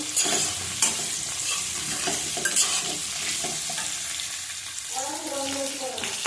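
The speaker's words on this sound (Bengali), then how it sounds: "দেব কুমড়ো, দিয়ে ভালো করে ভেজে নেব।" Pumpkin pieces sizzling loudly in hot oil in a pan while being stirred, with steady frying hiss and scraping stir strokes throughout, and a brief voice near the end.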